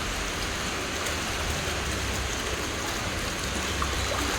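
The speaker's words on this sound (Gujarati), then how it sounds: "આની ઉપર એક અગાસી છે ને એનું બધું જ પાણી અહીંયા આવે આ ભૂંગળા થ્રુ" Rainwater from a rooftop terrace rushes down a drainpipe and splashes into pooled water below, a continuous close hiss of flowing water with no voices.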